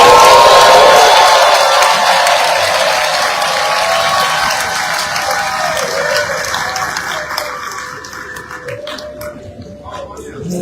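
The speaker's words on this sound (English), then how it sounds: "Please put your hands together for the president" An audience applauds and cheers for Sierra Leone's President Julius Maada Bio at a leadership event, dense clapping loud at first and slowly thinning as an amplified voice talks over the crowd.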